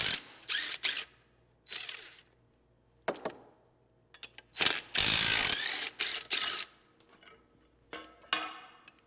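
A 17 mm ratchet wrench working bolts loose on a John Deere 855 tractor cover, with close, sharp bursts of pawl clicking between quiet gaps, a couple of longer loud ratcheting runs and small metallic clinks.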